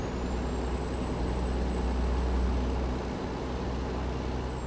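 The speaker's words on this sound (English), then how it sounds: "Especially with an engine that has a really loud engine brake." A heavily loaded truck with a loud engine brake descends a hill in American Truck Simulator, a steady, deep rumbling drone joined by a high sustained whine, loud and unbroken.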